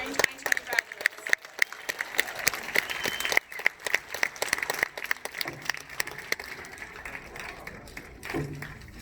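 Graduates are applauded with scattered, uneven clapping that sounds thin and somewhat distant, with choppy dropouts and a voice faintly present.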